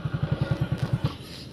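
A motorcycle engine putters at low revs while the bike is being parked outside a factory, a close, evenly pulsing thump that cuts out after about a second, leaving faint background noise.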